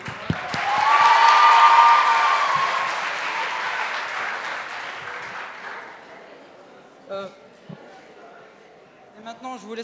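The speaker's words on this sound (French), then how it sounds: "Applaudissez bien fort cette magnifique équipe." Audience applause for a team at the final of a school debate competition, swelling to a loud burst of many hands early, then gradually fading away as voices begin to speak near the end.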